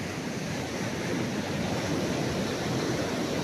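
Ocean surf on a beach in Sorsogon, a dense, continuous wash of breaking waves heard up close and fairly loud, with no voices over it.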